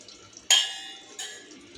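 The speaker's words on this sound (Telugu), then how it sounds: "ఇవి ఇలా వాటర్లో వేసేస్తున్నాను అన్నీ. కొత్తిమీర, కరివేపాకు, పుదీనా" Chopped coriander, curry leaves and mint tossed into water while cooking tomato pachadi, giving two soft, quick splashes about a second apart.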